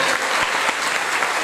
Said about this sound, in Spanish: felicitaciones para él, ese aplauso